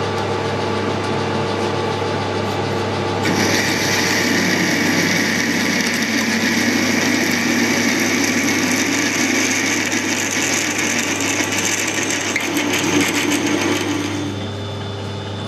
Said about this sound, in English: I've got a 5/8 drill here, which is just under 16.